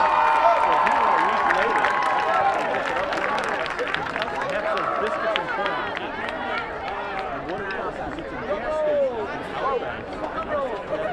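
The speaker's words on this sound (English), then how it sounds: "one more round of applause for all of our homecoming nominees" Applause and cheering from a crowd at a high school varsity football game for the homecoming nominees, steady and fairly loud throughout, with an announcer's voice and chatter mixed in.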